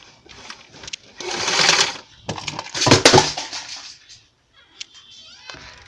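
A sewing machine stitches a frock lining in two fast, whirring bursts with a short pause between them, then goes quiet apart from a few faint clicks.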